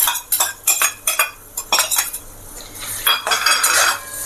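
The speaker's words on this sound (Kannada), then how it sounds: "ಈಗ ತೆಂಗಿನಕಾಯಿ ಹಾಕೊಂಡ್ಬಿಡ್ತಾ ಇದ್ದೀನಿ." Grated coconut stirred in a pan for rava laddu, a spoon scraping and clinking against the metal in a quick irregular series of close, bright strokes, with no talking.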